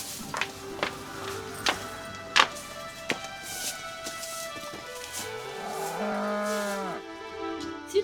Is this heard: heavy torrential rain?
no